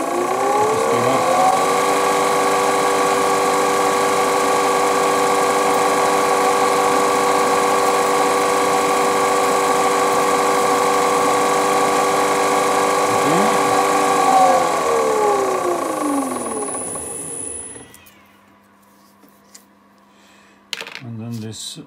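A lathe drills aluminium through the tailstock: a steady loud motor whine with tonal harmonics for most of the run, then it winds down and stops near the end, with a short knock after.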